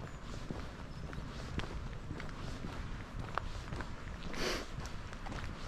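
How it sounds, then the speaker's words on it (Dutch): Footsteps walking along an asphalt road outdoors, a steady stream of close, soft treads over a constant broadband outdoor background, with no talking. "Dan gaan we weer op het asfalt lopen."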